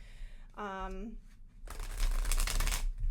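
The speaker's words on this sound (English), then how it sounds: "So I'm gonna shuffle up both decks" Two decks of tarot and Lenormand cards are riffled and shuffled in a crisp, rapid burst, preceded by a brief voice sound, close and clear.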